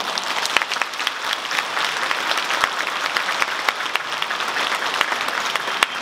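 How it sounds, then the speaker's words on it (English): Applause from a Chinese New Year gala audience in Victoria: a dense, steady clatter of many hands clapping that continues for several seconds at an even level, with a few sharper claps standing out. "Let's give them all another warm round of applause for that lively first act."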